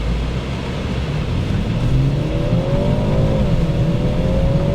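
A turbocharged four-cylinder engine in a car auction setting revs hard, a rough steady roar with a pitch that climbs and holds, loud and close without talking.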